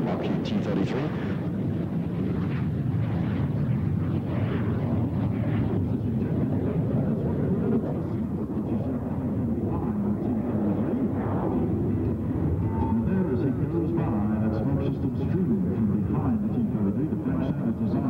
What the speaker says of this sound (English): running up the engine now, that Rolls-Royce Mean 10 engine